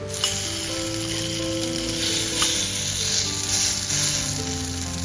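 A potato egg dosa made with maida flour sizzles steadily in a hot pan on a low gas flame after being flipped, a loud, continuous frying hiss with no voices.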